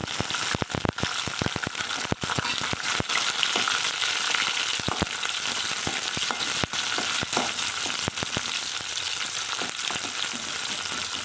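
Chopped tomatoes fry in a pan for a spicy coconut chutney, a loud, continuous sizzle broken by frequent sharp pops and crackles and stirring scrapes, close up with no voices.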